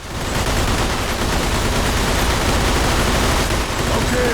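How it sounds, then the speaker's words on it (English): Sustained Tommy gun fire in the Mafia II video game, a dense, loud, continuous burst of rapid automatic shots filling the whole stretch, with no talk. "There are a few things more satisfying than clearing a room of your rivals out with a classic Tommy gun"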